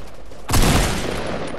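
Fortnite gunfire: after a quiet moment, a loud burst of in-game shots hits at once, then rolls on as a dense, booming crackle of rapid fire that fills the rest.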